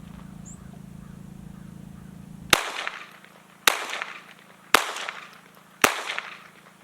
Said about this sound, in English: We're gonna see if the gun will run with this stuff in it.